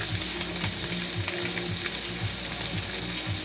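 Ground turkey chili sizzles steadily in a pot as water is poured in a little at a time, a loud, continuous frying hiss with faint liquid splashing underneath.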